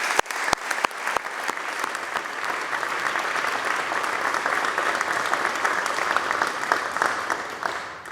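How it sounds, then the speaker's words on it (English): In the New York State Senate chamber, members applaud the staff: a few sharp early claps build into sustained, even applause filling the room, tapering near the close. "I would like a round of applause for all of them"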